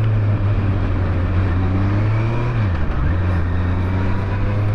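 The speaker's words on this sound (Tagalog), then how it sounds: "mahaba itong traffic na to" Road traffic rumbles steadily, a low engine drone from nearby vehicles with a brief dip as one shifts, continuous throughout.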